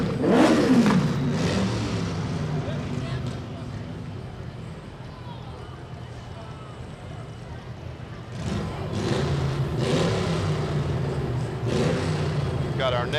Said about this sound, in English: We rev our engines and say hello with the horns.